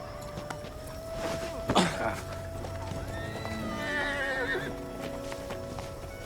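A horse gives a loud, wavering neigh at close range, and hooves clip-clop in an irregular rhythm underneath it. Voices talk over parts of the scene.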